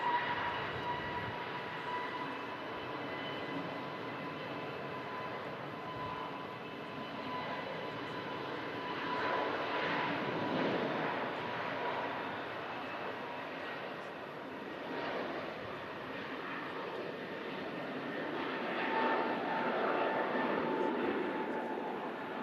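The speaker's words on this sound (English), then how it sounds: "EasyJet's just rolling down the runway off to Tenerife South Airport. An A320 Neo." An EasyJet Airbus A320neo rolls down the runway on its takeoff run bound for Tenerife South, its engine roar a steady, fairly distant rumble that swells gradually and stays continuous throughout.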